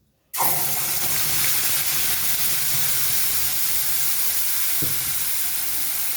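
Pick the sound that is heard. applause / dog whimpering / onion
onion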